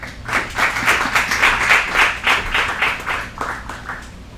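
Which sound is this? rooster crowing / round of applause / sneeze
round of applause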